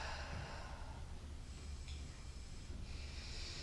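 A soft, steady, airy yoga exhale during a side angle pose, heard as a quiet, continuous breathy rush of air with no other sound.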